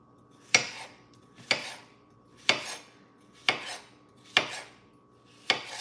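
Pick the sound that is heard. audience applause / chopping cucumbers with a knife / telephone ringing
chopping cucumbers with a knife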